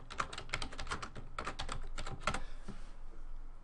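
Someone types a title into a spreadsheet on a computer keyboard, producing a soft, steady patter of close key taps for a few seconds with no speech.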